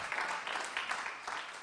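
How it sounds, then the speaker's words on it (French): Brief, faint applause from an audience at a live Occitan-language show, a soft patter of clapping. "Que vous applaudissez."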